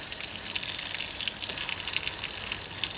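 Water gushing steadily from a newly installed outdoor garden tap, a loud continuous hissing splash close by with no break over the few seconds.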